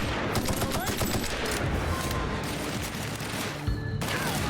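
Automatic weapon gunfire in The Outer Worlds, rapid sustained bursts with dense overlapping shots and booms, loud and close, with game effects layered behind.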